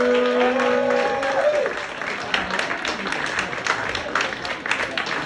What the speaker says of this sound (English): for clapping right now